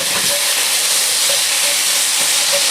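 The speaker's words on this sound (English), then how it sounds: "I'm going to deglaze this with a little bit of red wine." Red wine is poured into a hot brisket pan to deglaze it, setting off a loud, dense, continuous sizzle and steamy hiss right up close, with faint scraping underneath.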